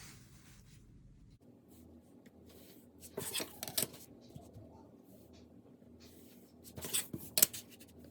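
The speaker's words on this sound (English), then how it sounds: "I'm going to draw a larger box around the window." Pencil drawn along a ruler on paper while outlining a larger box for a perspective window drawing, giving soft scratchy strokes in two brief bursts over a quiet room background.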